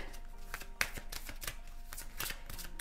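Tarot cards shuffled by hand in a steady run of soft riffling slaps and papery flutters, close and clear, with no talking.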